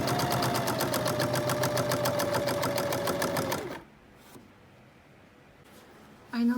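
A sewing machine stitches the hem of a Roman blind in a fast, even run lasting nearly four seconds, then goes quiet apart from faint handling.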